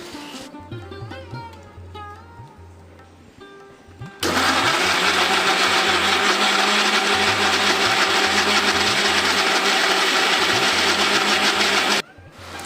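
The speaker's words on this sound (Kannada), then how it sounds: "ಇದನ್ನೀಗ ಮಿಕ್ಸಿಗೆ ಹಾಕ್ಕೊಂಡು ರುಬ್ಕೋಬೇಕು" A kitchen mixer grinder blends jackfruit pulp with no water added, starting with a loud, steady whirring roar that runs unbroken for about eight seconds and then cuts off abruptly, after quieter clattering and handling sounds.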